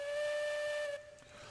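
Steam locomotive whistle in the Railroads Online railway game: a loud, steady two-tone blast holding for about a second, then cutting off into a soft hiss.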